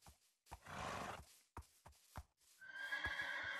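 A Minecraft horse whinnies and snorts up close, with a few hoof clops between the calls, ending in a long, bright neigh.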